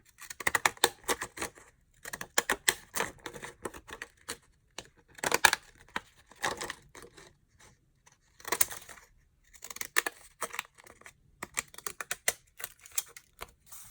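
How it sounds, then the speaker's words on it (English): Irregular bursts of crisp snipping and clicking, worn, ragged scissors cutting paper for a junk journal in quick clusters with short pauses between, close and fairly quiet. "Going to use this raggedy scissors again, just to give it an interesting texture."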